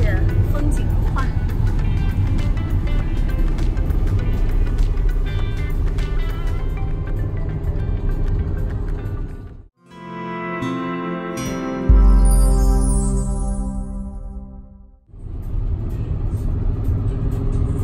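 A Porsche Cayenne Coupe driving on winding mountain roads: steady, loud engine and road rumble with a rising rev near the middle, a brief lull and changing tone, while people talk over it.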